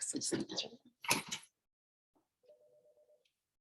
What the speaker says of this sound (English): my phone's ringing, so I need to pause this